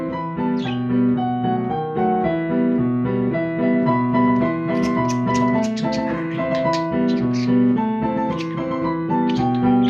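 A piano plays a Turkish children's song indoors, a steady melody with chords that carries on without pause for the whole stretch, loud and close, with no talking over it.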